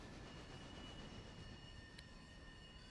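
The locomotive The General in the video game Railroader rolls along through a forest with a steady low rumble of wheels and faint whining tones, continuous and quiet with no voices.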